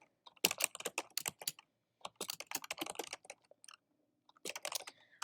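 HTML code is typed on a computer keyboard in quick, close bursts of key clicks separated by short pauses, with no voices.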